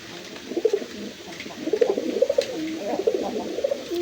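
Rasgolla pigeons, a breeding pair offered for sale, coo close by in repeated soft, throaty bursts, several rolling calls in a row with brief pauses between them.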